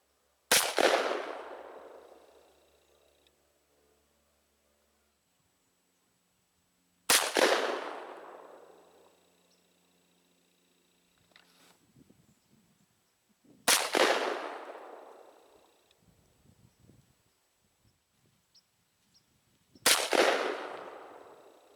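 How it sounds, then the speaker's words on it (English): Four loud, sharp shotgun blasts from a Mossberg 500 .410 pump-action firing Winchester Defender 3-inch shells, spaced several seconds apart outdoors, each ringing into a long fading echo with faint handling noises between shots. "let's go take our shots and see what happens when we run these through different choke constrictions"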